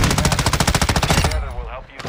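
Rapid machine-gun fire in a shooter video game, a loud evenly spaced burst of about a dozen shots that cuts off abruptly and leaves a faint ringing tail.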